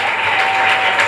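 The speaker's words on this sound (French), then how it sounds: "J'entends quelqu'un acclamer très fort le Seigneur." A church congregation claps and cheers in a dense, loud burst of applause that fills the room for a brief moment.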